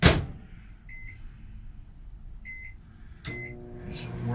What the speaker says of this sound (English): Microwave's a microwave.